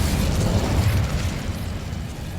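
The Incendio fire spell blasts in Hogwarts Legacy gameplay, a dense roaring burst of flame that fades slowly over a couple of seconds with no voices.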